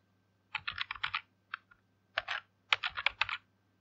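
Keys clatter on a computer keyboard in quick bursts of typing, close and clear, with short pauses between runs in an otherwise quiet room.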